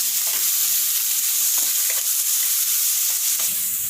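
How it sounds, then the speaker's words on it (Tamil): Sliced onions sautéing in a pan for a Tamil thokku side dish, a steady close sizzle with soft scraping stirs breaking through every second or so, with no voices. "வெங்காயம் வந்து பார்த்திங்கன்னா நல்லா வதங்கி கோல்டன் ப்ரௌன் கலர் சேஞ்ச் ஆகணும்"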